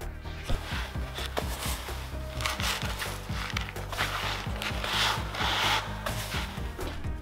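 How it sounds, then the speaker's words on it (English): A scraper works dried mud splotches off a concrete barndominium floor, giving repeated short rasping strokes in an uneven rhythm, close and fairly quiet, with no talking. "scrape up any of these splotches of mud that got onto the floor. You just scrape them up like so."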